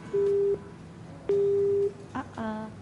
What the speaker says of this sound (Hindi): सॉरी, आपकी लाइन ड्रॉप हो गई, एक बार फिर कॉल कर लीजिएगा।